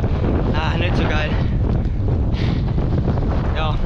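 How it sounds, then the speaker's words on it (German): Strong wind roars across the microphone outdoors on a Swiss tour in a constant, loud, buffeting rush, with someone speaking intermittently beneath it. "Der Wind hat wieder ein bisschen Anlauf, aber vielleicht kommt einfach wieder."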